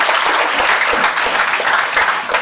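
Dense audience clapping from a classroom or lecture gathering, loud and continuous for a couple of seconds with no voices over it.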